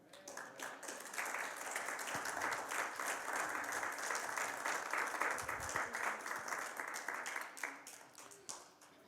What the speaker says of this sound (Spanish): yo creo que deben de darle un aplauso al Señor